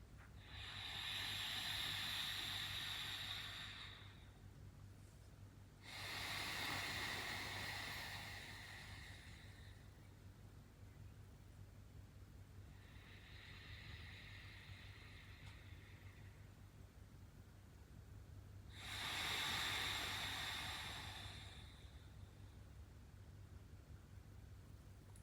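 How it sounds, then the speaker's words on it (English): Alternate nostril breathing, with slow, soft breaths drawn in and pushed out through the nose. Four separate airy rushes of a few seconds each are spaced apart by quiet pauses over a low steady hum. "So it's in through your left, out through your right, in through your right, and out through your left."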